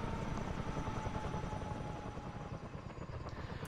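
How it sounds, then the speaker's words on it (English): A CH47 Chinook helicopter in a flight simulator idles with engines running, a dense, steady rotor and turbine roar that stays constant and fairly even throughout. "The mission will start with the helicopter's engines running"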